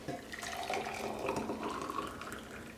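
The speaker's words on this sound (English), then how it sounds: "And pour it into our jar here." Hot dissolved crystal solution, just off the stove, poured into a jar, a short steady liquid stream splashing and gurgling close by, with no talking.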